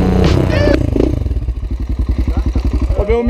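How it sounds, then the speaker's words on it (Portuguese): Dirt motorcycle laboring up a hill on a trail near Santa Luzia, Mimoso do Sul, its engine pulsing in a steady chugging rhythm, close and loud, with voices briefly heard at the start. "Ô, Belmiro, é só assim que essa moto sua sobe morro?"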